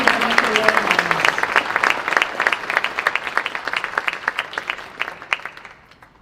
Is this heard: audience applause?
yes